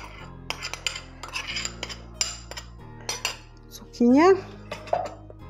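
A utensil clinks and scrapes against a bowl while a raw zucchini salad is stirred, with repeated close clatters and a brief louder scrape. Someone speaks at one point.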